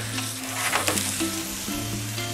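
Pizza crust sizzling in a hot pan on the stove, a close, steady frying crackle with some stirring scrapes and no speech.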